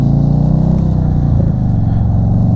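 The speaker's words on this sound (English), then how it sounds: "there's something soothing about the Dean Speed Rampage mufflers" Engine exhaust rumbles through Dean Speed Rampage mufflers on a vehicle cruising uphill, a loud, steady low drone with a slight change in pitch midway, no voices.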